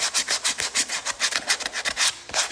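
A custom Vans bowling shoe is sanded by hand with quick, rhythmic back-and-forth rasping strokes, close and fairly loud, each stroke distinct and evenly paced.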